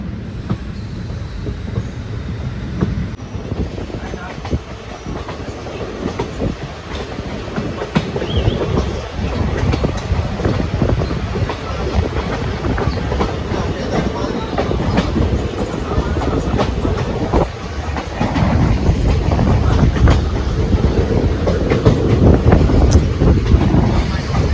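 A second-class passenger train on the Kollam to Aryankavu line along a 120-year-old railway rumbles steadily on the rails, with rhythmic clickety-clack of wheels and a rising roar toward the end, heard from inside the carriage.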